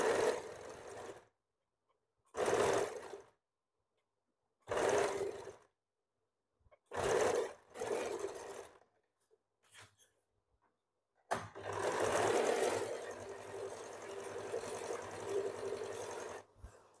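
A sewing machine stitches a bra-cut blouse in short separate runs of whirring stitches with silent gaps between them, followed by one longer continuous run, close and moderately loud.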